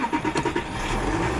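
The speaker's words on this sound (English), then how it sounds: "Starter up." An Audi Q7 TDI Quattro SE diesel engine cranks with a few quick stuttering pulses, then catches and settles into a steady, low, rumbling idle close by.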